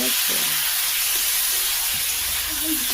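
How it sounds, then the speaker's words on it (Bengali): Spice paste poured into a pan of vegetables for a thin curry, producing a continuous loud hissing sizzle, with faint voice fragments underneath. "এই যে মশলাটা বানিয়েছিলাম এতে ঢেলে দিব একটু"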